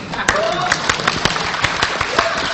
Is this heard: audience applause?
yes